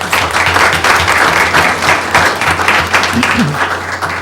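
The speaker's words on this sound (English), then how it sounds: "So let's just give her a round of applause." A school board meeting audience gives a round of applause for a middle school student musician, steady moderately loud clapping from many people with a faint voice or two murmuring underneath.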